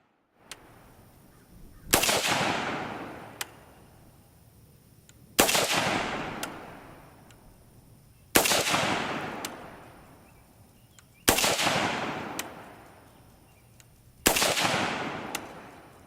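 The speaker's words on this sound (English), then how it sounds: "At about 75 yards kneeling, I decided to print several 5-shot groups" An FN SCAR 16S rifle fires single shots at a target 75 yards away, five loud sharp reports spaced about three seconds apart, each trailing off in a long outdoor echo.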